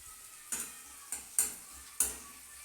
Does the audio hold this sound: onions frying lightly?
yes